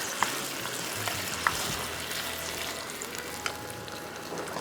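Manchurian sauce and chicken stirred in a hot pan, a steady sizzle of frying with occasional soft knocks and scrapes of the spatula, close and continuous throughout.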